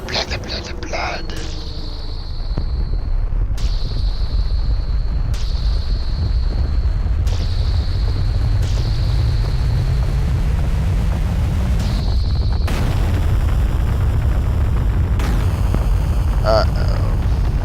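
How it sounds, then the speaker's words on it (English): A ship blows up in Final Fantasy Tactics with a roaring, sustained explosion rumble that swells and fills the scene, punctuated by repeated sharp whooshing blasts over several seconds. "The ship exploded"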